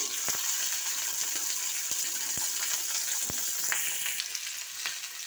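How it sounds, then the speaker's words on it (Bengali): Beans frying in hot oil in a pan for a bean stir-fry, a steady bright sizzle throughout with a few sharp clicks and taps of stirring. "তেল দিয়ে এবার ডিম কড়াইগুলো আমি এবার ভেজে নিচ্ছি।"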